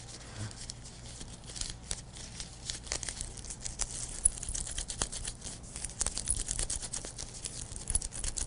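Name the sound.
kneading two-part epoxy clay by hand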